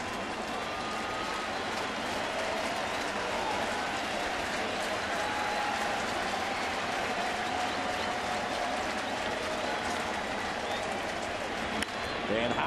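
Baseball crowd at a Phillies at St. Louis Cardinals game cheering and applauding, a continuous broad roar of clapping and crowd noise holding steady throughout.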